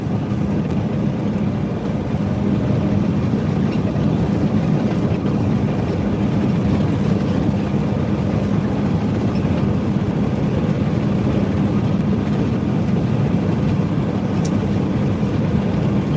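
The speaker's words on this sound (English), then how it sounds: "We're in 18th gear, about 1400 RPM," A semi truck cruises in 18th gear at about 1400 RPM and 65 mph, its engine and road noise making a steady, unbroken low drone inside the cab, with no talking.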